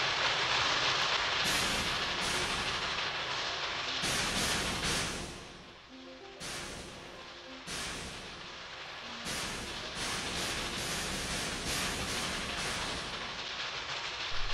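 Trains run along parallel rail tracks in the Kubifaktorium building game, a steady broadband rumble with rail clatter that dips briefly mid-way, then resumes at an even level with no talking.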